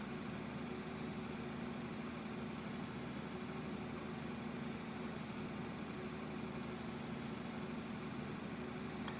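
Tractor engine in Farming Simulator 2013, a steady low idling drone with a constant mid hum, unbroken and fairly close, with no talking over it.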